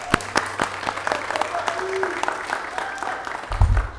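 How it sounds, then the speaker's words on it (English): Audience applause at a city Welcoming Week celebration for immigrants and refugees in San Diego: steady crowd clapping with a few sharp near claps, carrying on for several seconds and swelling louder at the end. "so let's all give him a big round of applause"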